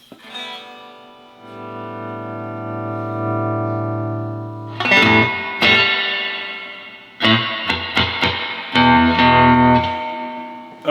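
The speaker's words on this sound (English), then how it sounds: "let's just give a listen to the stock tank in this, what I think is a 78 Princeton." Stock spring reverb tank in a 1978 Fender Princeton amp, turned all the way up: a sustained guitar chord swells and then splashes into bursts of metallic, echoing reverb with sharp transient crashes, loud and alone.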